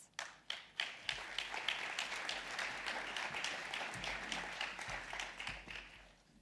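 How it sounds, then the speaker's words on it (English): Audience applause at the World Climate Summit 2017 opening ceremony greets speakers coming to the stage, opening with a few separate claps that swell into steady, dense clapping from a large crowd. "Please give a warm round of applause."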